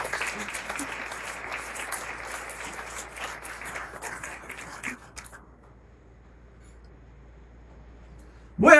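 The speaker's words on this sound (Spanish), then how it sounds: "Dale un fuerte aplauso a él." A church congregation gives a loud round of applause, with steady dense clapping that lasts about five seconds, then breaks off into near silence before a short sharp noise at the end.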